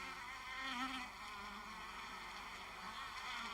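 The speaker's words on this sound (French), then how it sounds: "l'entrée de la ruche ou de la ruchette d'observation se transforme en un véritable aéroport où atterrissent et décollent sans arrêt les abeilles butineuses" Honey bees flying in and out at the entrance of a hive or small observation hive make a steady, faint buzzing drone with no pauses and no voices.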